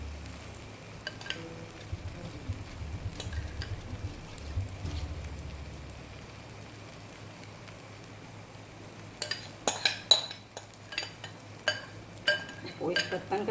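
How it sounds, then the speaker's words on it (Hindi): A cooking pot and utensils clatter on a stove while a Spanish omelette with potato and cheese is prepared, with faint stirring and sizzle early on, then a burst of sharp, close metallic clinks and scrapes near the end. "और इस बर्तन का शोर भी बहुत है जो आपको आ रहा होगा।"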